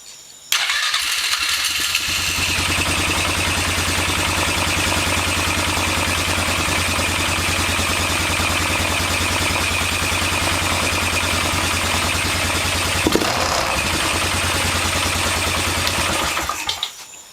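A Polaris Sportsman 500 EFI ATV engine starts after a fuel pump replacement and idles steadily and loudly up close for about fifteen seconds before shutting off.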